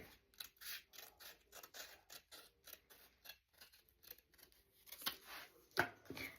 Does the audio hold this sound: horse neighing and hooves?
no